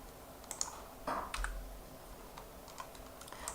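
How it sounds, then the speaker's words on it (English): Typing on a computer keyboard indoors, with a few scattered key clicks and a short burst of faint tapping at a low level, with no voices. "Somebody's typing"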